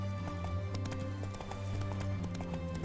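A horse gallops in The Witcher 3: Wild Hunt Complete Edition, with rapid, even hoofbeats drumming over a sustained musical drone and a brief whinny-like tone.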